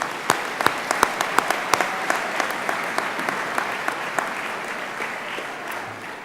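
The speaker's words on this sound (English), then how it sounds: "Let's give him a round of applause in his absence." A crowd at an athletic awards banquet applauds steadily, with sharp individual claps standing out above a dense wash of clapping throughout.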